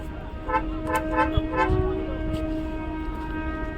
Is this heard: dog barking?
no